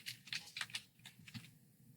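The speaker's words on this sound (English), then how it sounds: "I'm going to type in Utility Software." Quick, irregular keystrokes on a computer keyboard while entering a heading into a report, a close burst of tapping that slows and trails off near the end, with no voices.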